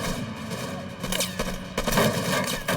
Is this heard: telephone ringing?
no